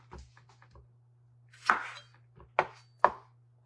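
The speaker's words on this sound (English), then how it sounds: "now we're going to slice some onions in like slivers" Onions being sliced into thin slivers on a board, a few soft knife taps early, then three sharper, louder chops spaced about half a second apart over a steady low hum.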